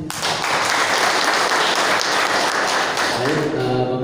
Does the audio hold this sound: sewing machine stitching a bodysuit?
no